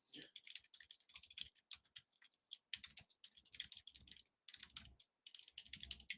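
Fingers type rapidly on a computer keyboard, producing bright, close clicking in several quick bursts separated by short pauses.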